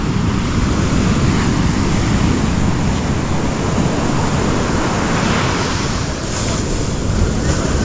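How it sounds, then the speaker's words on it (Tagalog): Large sea waves surge and crash around a small fishing boat on open water, a loud, continuous roar mixed with heavy wind buffeting the microphone, no voices. "medyo malalaki pa ang alon kaya hindi tayo makakalaot pa nito"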